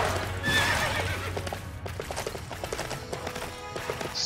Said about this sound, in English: thought the dragon did the horse sound, but that was definitely the horse.